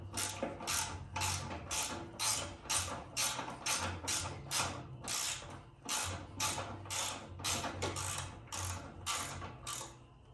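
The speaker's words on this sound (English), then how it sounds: "I got a 7/16 inch wrench. Just put it right underneath here." A 7/16 inch ratchet wrench turns seat bolts during a Saddlemen motorcycle seat install, giving a steady run of rapid ratcheting clicks in short repeated bursts, close and fairly loud, with no talking.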